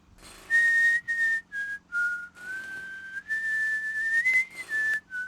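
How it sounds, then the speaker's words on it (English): A video game character in Broken Sword: The Sleeping Dragon whistles tunelessly at a urinal, a wandering whistled line of sustained notes broken by short pauses, heard alone and up close. "Whistles tunelessly."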